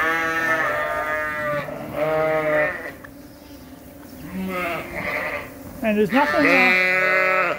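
Sheep on a farm, with fresh hay and cut grass nearby, bleat loudly and close in several drawn-out calls, with someone talking briefly among them.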